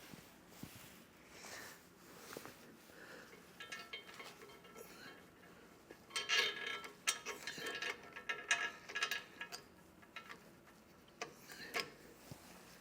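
Allen head bolts being loosely threaded by hand up from below into a RockyMounts Gigawatt bike rack, giving soft metallic clicks, ticks and scrapes that grow busier in the second half, close and moderately quiet.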